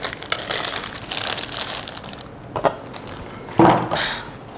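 Plastic packaging crinkles and crunches as a fiber network switch with 2.5 gigabit ports and SFP transceiver is unwrapped, with scattered rustles and a couple of sharper louder crackles near the end, no talking.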